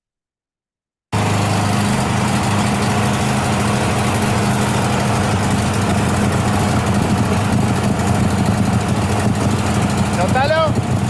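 A car engine idles steadily and loudly close by while a lighter is held to the exhaust to ignite the fumes coming out, the constant engine drone filling the whole stretch, with brief faint chirps near the end.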